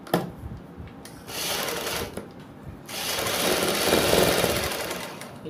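A sewing machine runs in bursts while stitching a double seam along the neckline of an angrakha-style suit, its dense mechanical whir stopping briefly and restarting louder for a longer stretch, fairly close.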